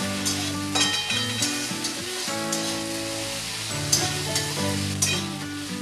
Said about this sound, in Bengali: আবারও পেঁয়াজের সাথে আমি ভালো করে আদাটা একটু ভেজে নেব